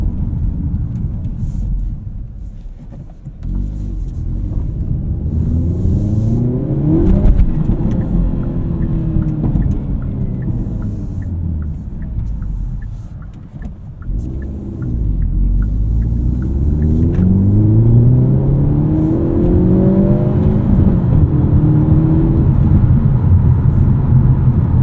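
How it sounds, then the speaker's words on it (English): A 2024 Hyundai Elantra N with a six-speed manual revs up repeatedly while driving, its exhaust note rising in pitch with each acceleration, a loud continuous rumble with brief dips between pulls. "It's still the best exhaust in the segment."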